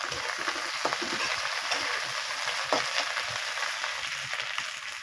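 Potatoes fry in oil with onion and green chili, giving an even, continuous sizzling hiss with soft stirring knocks and small pops throughout.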